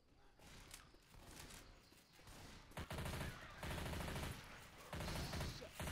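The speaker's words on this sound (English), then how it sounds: "Why does it sound like I'm like shooting rubber bullets?" Rapid gunfire from a weapon in the co-op zombie shooter Left 4 Dead 2, dense bursts of shots fired in quick succession, loud and close, with short pauses between bursts.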